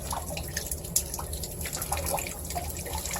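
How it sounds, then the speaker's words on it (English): Water trickles and drips from a water meter as its fitting is loosened, a faint, close, uneven patter of small splashes with no talking. "it's turning the whole meter, so it's making it leak all over the place"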